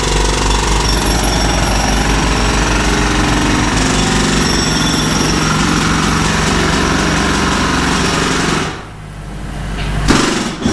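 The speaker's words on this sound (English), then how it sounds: "I hear some jackhammering going on" Loud, close 60- and 90-pound jackhammers breaking a concrete garage floor, pounding continuously, a rapid mechanical rattle with engine hum, briefly dropping off near the end before resuming.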